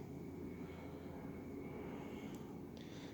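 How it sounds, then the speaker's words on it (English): A C-130 military transport aircraft passes at a distance, heard as a faint, steady low engine roar with a droning hum, no voices. "Hello, C-130."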